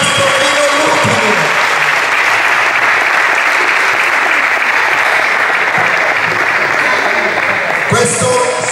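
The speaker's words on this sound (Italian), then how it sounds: "Un applauso, è rimasto fino all'ultimo." A crowd applauds the overall winner at the third Altomonte slalom motor race, loud continuous clapping at close range that holds steady throughout, with a voice briefly heard at the start and end.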